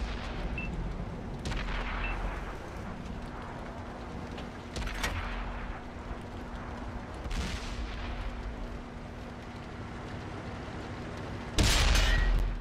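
Skoda T50 tank cannon firing in a tank video game on Xbox One: a few booming shots spaced several seconds apart over a constant low engine rumble, the last blast loudest near the end.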